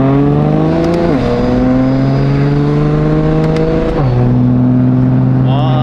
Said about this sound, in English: It revs up so much faster.